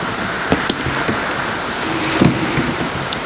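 Wind roars and buffets the microphone in bad weather outdoors, a steady broadband rush with a few gusty thumps, loud and alone.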